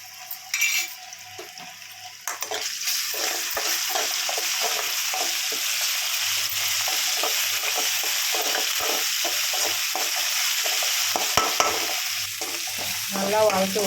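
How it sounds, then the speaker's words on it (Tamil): Ginger garlic paste frying in a pan for fish curry, a loud steady sizzle with repeated scraping and stirring strokes of a spoon against the pan, close and continuous. "நல்லா வதக்கி விட்டுக்கிறோம்."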